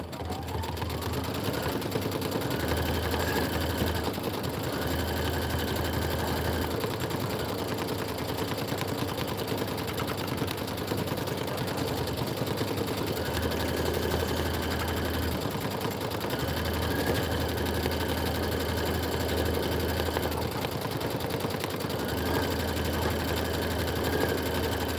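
A sewing machine stitches a quilting pattern in a continuous mechanical hum with rapid needle rhythm, running in bursts over a steady background drone, close and loud, without speech.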